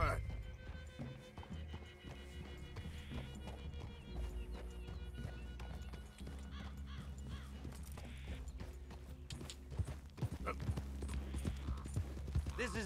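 Horses' hooves clip-clop at a walk in the video game Red Dead Redemption 2, a steady rhythmic clatter running under game music and frequent character dialogue.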